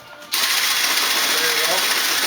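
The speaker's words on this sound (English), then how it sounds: "It's powered by a drill, and it's got similar bearing setups as a bandsaw." A drill-powered foam saw with bandsaw-style bearings starts abruptly and runs at a steady, loud, even whir.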